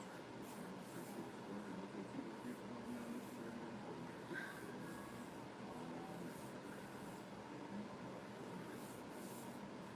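A train sits waiting at a station on a chilly night, giving off a low, steady rumble with a faint hiss over it and one brief higher tone partway through, with no talking.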